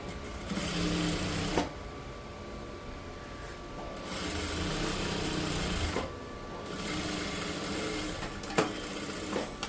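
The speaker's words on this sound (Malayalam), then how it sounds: "ആദ്യം ഈ മേൽഭാഗത്ത് ഒരു സ്റ്റിച്ചിങ് കൊടുക്കുക" A sewing machine stitches along folded fabric at close range, fast rhythmic mechanical chatter in several bursts separated by brief pauses, with soft handling clicks between runs.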